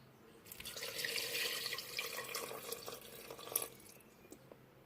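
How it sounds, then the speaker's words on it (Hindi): Two cups of water are poured into a pot of meat for achar gosht, a soft, continuous splashing and trickling that runs for a few seconds at a fairly quiet level, with no talking. "दो कप पानी शामिल करूँगी।"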